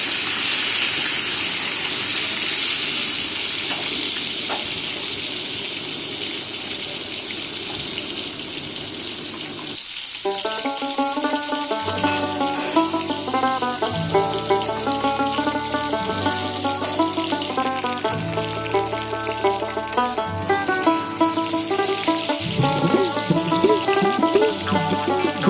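Whole pointed gourds (potol) fry in hot oil with a continuous, dense sizzling hiss that runs steadily throughout, with melodic background music joining partway through and continuing under the sizzle.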